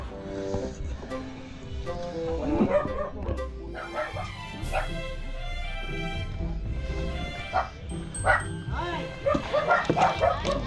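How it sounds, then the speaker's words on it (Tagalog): A dog barks and yips in short bursts amid a busy, cluttered background with voices talking, along the Malabon-Obando coast. "Nakakatakot yung aso."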